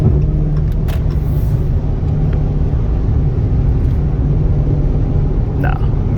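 A 2020 Dodge Charger 392 driving fast, a loud, steady low engine rumble and road roar that holds without a break, with no clear gear changes or revving.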